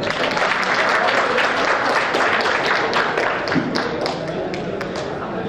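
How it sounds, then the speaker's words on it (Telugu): Sustained applause from an audience of young men at a Ganesh festival committee meeting in Uppal, Hyderabad, dense steady clapping filling the room for several seconds with faint voices mixed in. "మరొక్కసారి చప్పట్ల ద్వారా ఆ టేస్ట్ను రుచి చూపించండి"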